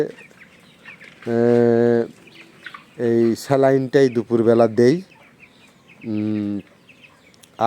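Chickens cluck close by in a hot yard, a few drawn-out clucking calls in separate bursts with pauses between them, while a person talks briefly in between.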